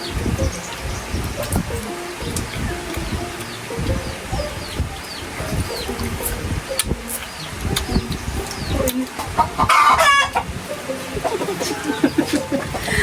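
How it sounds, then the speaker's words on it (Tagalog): Chickens cluck and call around a busy outdoor spot, with a louder squawk near the end amid rustling and background noise. "Maingay po yung manok."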